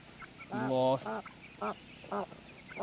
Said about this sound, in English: there's a chicken fight